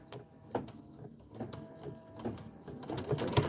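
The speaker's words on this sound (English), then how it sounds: "Stitch out the tree." An embroidery machine stitches out a tree design in short, uneven bursts of clicking and whirring, close by and moderately quiet, with a faint background hum between bursts.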